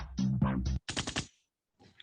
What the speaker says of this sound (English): oh, with the gunshot.